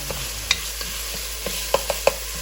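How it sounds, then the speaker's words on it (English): Garlic added to translucent onions sautéing in a pan for black bean soup, with a low steady sizzle and a few sharp spoon clinks against the pan as it is stirred. "Now that the onions have become translucent, I like to add my garlic. We'll saute this."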